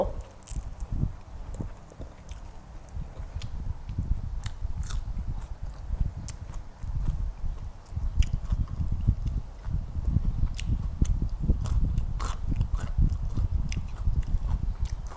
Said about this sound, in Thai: ต้องกัดกระเทียมค่ะ